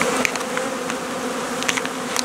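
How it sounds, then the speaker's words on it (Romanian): Honey bees in February leaving the hive on both sides to feed, a dense continuous buzz of many insects close by with occasional louder passes of single bees. "Dacă ne uităm și aici, albinile, priviți, au ieșit pe ambele părți la păpică."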